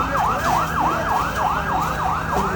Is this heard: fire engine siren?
yes